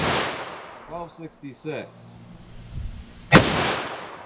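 A .44 Magnum revolver loaded with Hornady LEVERevolution ammunition fires one sharp, loud shot after a man reads out a few numbers.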